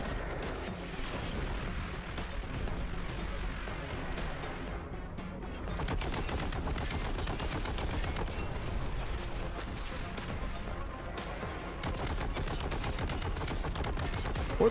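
Rapid, sustained weapon fire from the plasma gun in the video game Warhammer 40,000: Boltgun, a dense stream of bursts and booms running nearly continuously with brief dips, loud and close with no talk over it.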